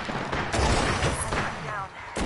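Video game gunfire on a PS4 battle royale match, rapid shots and bursts crackling through a dense, busy mix alongside voice chatter, loud and close for the whole moment.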